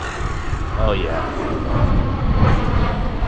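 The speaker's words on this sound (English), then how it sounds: "and planes coming through, of course" Airplanes passing overhead at an outdoor RC car racing spot, a broad steady engine roar swelling over the whole stretch while a person talks over it.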